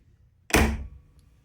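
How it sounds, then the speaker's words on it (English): A spring lock's spring unwinds and drives the metal bolt into wood, one sharp, solid thunk that starts abruptly and decays quickly, close and alone in otherwise quiet surroundings. "That sound is the sound of the spring unwinding like this, and the metal driving straight into that wood."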